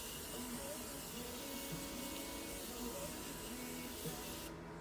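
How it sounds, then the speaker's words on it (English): A steady, soft hiss of a fine mist spray runs continuously at close range, with faint background tones beneath it. "I'm just gonna spray all over my face"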